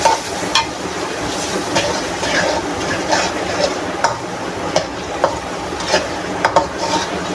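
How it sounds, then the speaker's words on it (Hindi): Tomatoes sizzling in hot oil with spices and white cumin for tahiri, a steady close fry hiss punctuated by regular scraping stirs of a spoon against the pot. "टमाटर डाल दिए"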